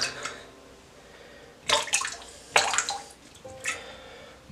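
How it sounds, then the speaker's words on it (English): Water gurgles and sloshes in a few short bursts as a basin is drained before shaving, with quiet pauses between splashes. "I take out all the water."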